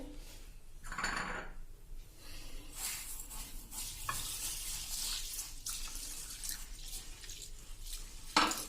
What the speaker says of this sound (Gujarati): તો હું એને 3 થી 4 પાણીએ ધોઈ લઉં છું મિત્રો.